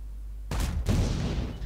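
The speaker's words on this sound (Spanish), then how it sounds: "Aquí un disparo. Este es un disparo curioso." Jagdpanther II tank destroyer in World of Tanks firing its main gun once, a sudden loud blast after a quiet start that trails off into a rumbling echo.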